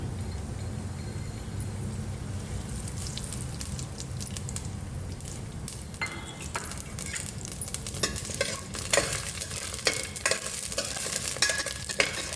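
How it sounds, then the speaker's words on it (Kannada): Mustard seeds fry with chana dal and urad dal in a pan, giving a continuous close sizzle with frequent scraping stirs and sharp little pops that grow busier toward the end. "ಇದನ್ನು ಫ್ರೈ ಮಾಡ್ಕೊತಾ ಇದ್ದೀನಿ. ಸಾಸಿವೆನೂ ಹಾಕ್ಕೊತಿದ್ದೀನಿ ಒಟ್ಟಿಗೆ."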